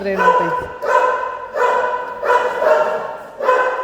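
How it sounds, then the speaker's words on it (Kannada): Nearby dogs bark in a steady series of about five loud bursts, evenly spaced with short pauses between. "ಈ ಕಡೆ ನಮ್ಮ ನಾಯಿಗಳು ಹೆವಿ ಮಾತಾಡ್ತಾವೆ ನಮಗಿಂತ ಕೇಳಿಸ್ತಾ ಇರಬೇಕು"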